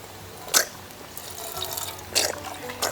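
Water poured into a collapsible silicone pot outdoors on a hiking trail, a few brief splashy pours and drips close up, between quieter gaps.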